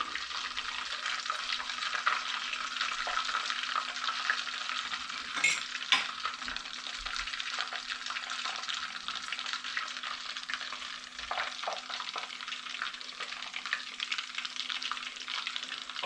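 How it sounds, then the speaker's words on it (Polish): Steady crackling sizzle of Scotch eggs deep-frying in oil, continuous and close, with a few faint clinks partway through. "Kolejne jaja lądują do smażenia."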